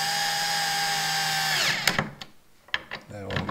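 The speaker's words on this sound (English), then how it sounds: "We have the drill clutch set up a little bit soft right now. You can hear it, so that way you don't over tighten them." A power drill with its clutch set soft drives bracket screws, its whine winding down before several sharp clutch clicks and ratchets, close and fairly loud.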